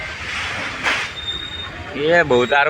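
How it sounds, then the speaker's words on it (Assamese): A train rumbles past close by with a metallic squeal, and a voice speaks near the end. "এই ট্ৰেইন যাই আছে"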